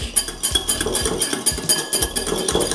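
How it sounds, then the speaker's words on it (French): A whisk beats mayonnaise ingredients in a small bowl with rapid, steady metallic clinks and scraping, loud and close, with no talking. "je vais mélanger tous les ingrédients"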